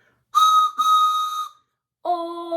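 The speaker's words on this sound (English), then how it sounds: "I even have my whistle." A toy train whistle blown three times in short bursts, the first two close together and the third a lower chord after a pause, loud and clear with no talk.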